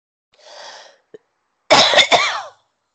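A person coughs: a short, softer cough first, a tiny click, then two loud, close harsh coughs in quick succession, with no talking.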